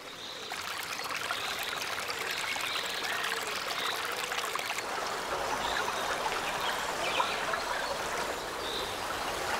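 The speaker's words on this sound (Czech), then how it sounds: "Křišťálově čistá voda zde prosakuje ze země na několika místech." A tiny mountain spring at the source of the Brege, a Danube headwater, seeping from the ground in several places, heard up close as a steady, gentle trickle and babble of clear water with no voices.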